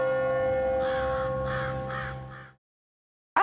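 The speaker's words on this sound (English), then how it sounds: "Accurate bird sounds." Crows caw in the horror video game Midnight Scenes From the Woods, about five harsh calls over a sustained droning tone, then silence and a sudden loud burst at the very end.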